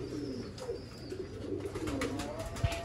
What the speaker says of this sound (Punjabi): ਇਹ ਬਟੇਰੇ ਕਬੂਤਰ ਜੇ